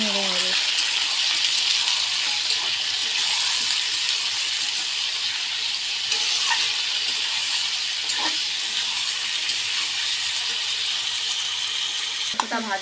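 Chicken pieces are stirred through onions already browned in a frying pan, giving a steady, loud sizzling hiss throughout with a few faint scrapes and clinks.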